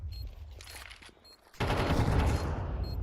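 Burst of rifle fire in a Counter-Strike match: a quieter stretch gives way to a loud, sustained volley of rapid shots in the second half.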